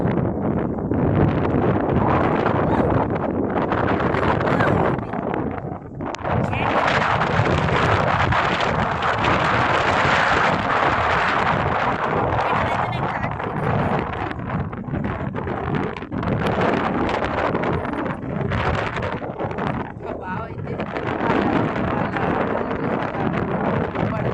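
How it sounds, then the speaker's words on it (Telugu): Strong wind at a pond batters the microphone with a heavy, continuous rumbling roar that barely lets up for the whole stretch, drowning out other sound. "ఇక్కడ ఈరోజే గాలి ఎంత ఎక్కువ ఉందంటే అంత ఎక్కువ ఉంది"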